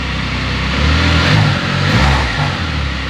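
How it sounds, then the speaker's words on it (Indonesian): A Can-Am Spyder F3-S 2022 three-wheeler with a 1330 cc engine revs up in deep, bassy swells, rising twice and easing back, loud and close with no talk. "mesin ini jauh lebih ngebas ya suaranya ya"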